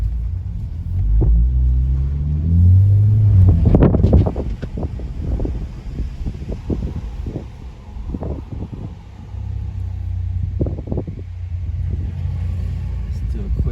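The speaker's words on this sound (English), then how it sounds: "you can definitely hear the rumble. Like, it's definitely, you can hear the exhaust." A Mercedes-Benz C43 with its stock exhaust rumbles low while driving, its deep drone mixed with wind buffeting and road noise, swelling early and then settling into a steadier hum.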